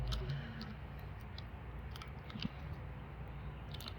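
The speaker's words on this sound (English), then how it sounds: "Don't rub the zigzag scissors on your other nail while you're cutting." Zigzag scissors snip through nail polish strips in a quiet run of small, rapid clicks and crisp cuts, faint and close against a low background hum.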